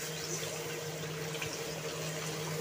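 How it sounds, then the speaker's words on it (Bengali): Water pours steadily into a simmering Bengali fish curry, a continuous splashing rush over a low steady hum. "চলো এবার আমি তরকারিটাতে জল ঢেলে দিই।"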